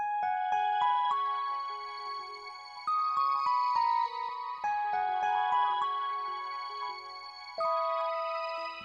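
A synth counter melody played on an Analog Lab preset with Autochroma, bright clean notes stepping through a gentle R&B line with sustained tones and clear attacks, heard alone without voices.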